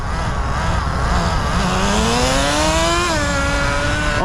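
Electric motor whine from a Smartech Magic Wheel RC truck, a T-Maxx clone, rising steadily in pitch, then dropping suddenly as the two-speed transmission shifts, over loud continuous rumbling road noise.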